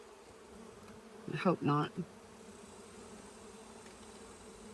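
Honey bees drone steadily around an open hive during an inspection, a low continuous buzz running throughout with a brief burst of speech over it.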